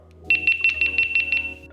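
GoPro action camera powering off with its electronic chime: a quick run of about seven bright, evenly spaced beeps at one pitch, close and clear, with no speech.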